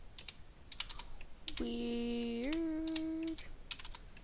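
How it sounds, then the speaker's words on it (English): Rapid keyboard typing, a steady patter of clicks, interrupted midway by a sustained electronic tone that rises in pitch, with a brief spoken word, during Minecraft play. "I'm not typing well today."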